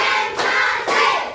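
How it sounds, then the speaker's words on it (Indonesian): A fifth-grade class clapping together in a counting clap routine, two sharp group claps close together, loud and near. "Tepuk satu, tepuk dua, tepuk tiga,"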